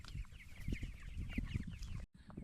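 Pasture-raised chickens cluck and chatter in a busy, continuous flock, close and fairly soft, with overlapping calls before a brief cut near the end.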